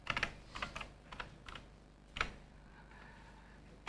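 Irregular bursts of keystrokes on a computer keyboard, close and fairly quiet, with short pauses between clusters of taps and no talking.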